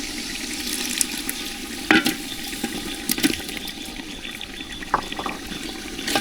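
Beef fat being stirred and fried with black pepper, cardamom and garam masala in a pan for a beef and potato curry, giving a steady sizzling hiss with a few scraping clicks of the spoon.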